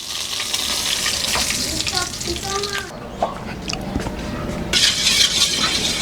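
Tilapia frying in a pan gives a steady hiss and sizzle throughout, with occasional brighter crackles, heard up close over a low background.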